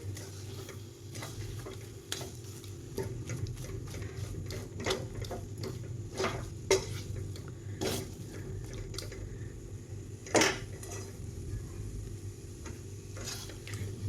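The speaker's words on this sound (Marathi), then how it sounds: "आणि आता आहे ना ही वेलची पूड ह्याच्यामध्ये सगळी मिसळून घेते." A spoon works cardamom powder into a thick mango barfi mixture, giving soft scraping under a low steady hum, punctuated by sparse sharp clicks and taps of utensil against pan.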